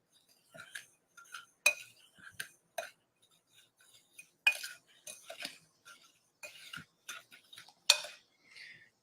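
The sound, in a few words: stirring bath fizzy mixture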